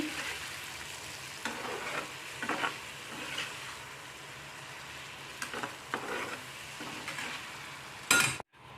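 Potato and fish curry being stirred in a pan after broth is added, a soft steady simmering hiss with repeated spoon scrapes and clinks, ending in a brief loud clatter.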